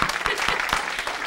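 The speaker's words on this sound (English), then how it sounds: "we should give him a round of applause" Round of applause from an audience at an American Indian art symposium, a brief burst of dense, close clapping with no speech over it.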